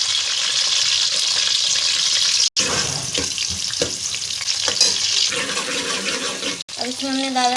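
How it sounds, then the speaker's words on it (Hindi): Chopped onions fry in hot oil with a loud steady sizzle and stirring scrapes, broken by brief cuts, ending with a watery burbling sound. "ये हमने प्याज को ऐसे कट कर लिया। अब हम तेल में डालेंगे।"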